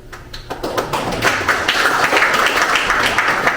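Audience clapping at an inauguration ceremony for a Korean association's president, a steady patter of many hands building and holding at moderate loudness.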